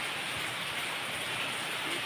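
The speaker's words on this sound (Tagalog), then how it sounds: "Kita nyo na ulan." Steady rain falling outdoors, a soft continuous hiss with no distinct drops, fairly quiet and unbroken, with no voices.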